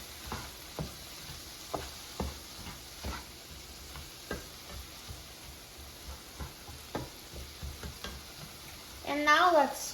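Canned corn with butter and Italian seasoning cooks in a pan, a soft steady sizzle broken by regular light scraping taps from stirring, quiet and close, with a short burst of voice near the end.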